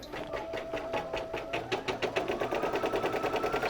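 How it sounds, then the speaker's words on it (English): A Brother SE1900 embroidery machine stitching a design onto a t-shirt, giving a fast, regular mechanical chatter that settles into an even rhythmic pulse, close and moderately loud. "So there the machine goes."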